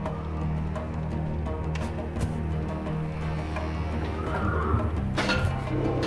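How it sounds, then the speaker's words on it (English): Nervous horses in a video game, whinnying over a steady droning game soundscape, with a louder neigh toward the end and no talking. "The sounds of fighting are making the horses especially nervous today."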